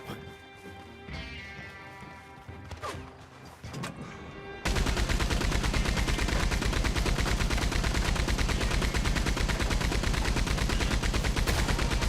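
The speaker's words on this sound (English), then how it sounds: "I will say this machine gun kind of sucks on this mode." Machine gun fire in Red Dead Online rattles out as a dense, continuous rapid burst that stays loud from partway through to the end, preceded by a few scattered shots and clatter.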